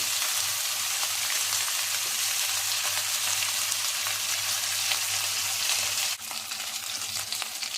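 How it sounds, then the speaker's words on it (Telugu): Chicken pieces for Arabian chicken kabsa fry in a hot pan with a steady, dense sizzle that runs unbroken throughout, loud and close, with a slight dip near the end. "చూడండి ఇది కూడా బాగా ఫ్రై అయిపోయింది"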